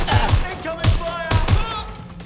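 Gunfire in the video game Watch Dogs Legion: several sharp, loud bursts of shots in an irregular rhythm, with crackling impacts between them and a voice shouting over the fight.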